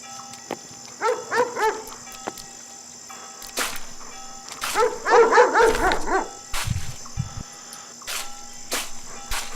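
Dogs in the horror game Haunted Memories bark in two separate bursts of rapid, moderately loud yaps, set against a constant background of chirping crickets and occasional faint thumps.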